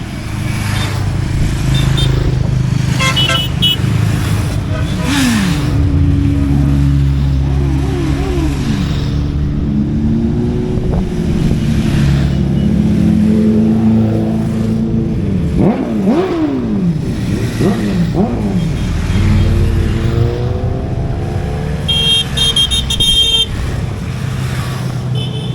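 Motorcycles and other road vehicles pass continuously during a charity ride-out through Brafield on a cold January day, with engines revving and rising and falling as they go by, occasional horn toots, and a steady loud roar throughout.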